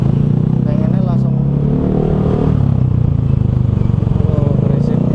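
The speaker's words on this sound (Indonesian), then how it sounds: "Oh, berisiknya motor." Loud, noisy motorcycle traffic passing on a road in Bintaro, a steady rumbling engine drone with clattering texture filling the whole stretch, with talk over it.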